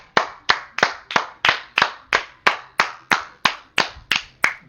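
Slow, deliberate handclaps ring out alone, about a dozen sharp evenly spaced claps close to the microphone with short decays between them.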